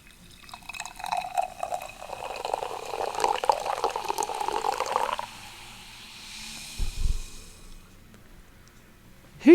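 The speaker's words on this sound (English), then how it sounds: "in your apple juice, he throws in some splashes of bitters" Liquid trickles and splashes as bitters are poured into apple juice, a close, gurgling pour lasting about five seconds, then a quieter pause with a soft knock near the end.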